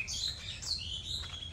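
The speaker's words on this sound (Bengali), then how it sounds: "কয়েকটা হোয়াইট ব্রেস্টেড ওয়াটার হেন এসেছে, যাকে আমরা বলি ডাহুক।" White-breasted waterhens calling around a village: a few thin, high chirping notes rise and fall through the short stretch, fairly quiet over a low background hum, with no talking.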